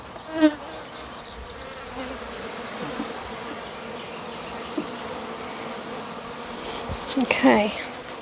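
Honey bees buzz steadily around a hive outdoors, a continuous close swarm drone with individual bees zipping past the listener now and then, no talking.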